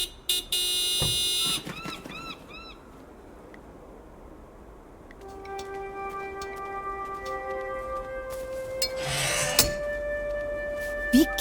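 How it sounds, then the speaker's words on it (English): Electronic car horn honks from the Broken Sword 5 adventure game play out as a few short, bright blasts, followed by a long stretch of sustained steady tones over ambient game background, ending with a louder burst. "Nico, could you honk the horn again?"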